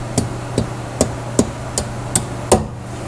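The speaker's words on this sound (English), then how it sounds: "Hammer." A hammer strikes seven times at a steady, unhurried pace during a Ford Taurus inner fender replacement, each blow a sharp, fairly close knock over a constant low hum from a running heater.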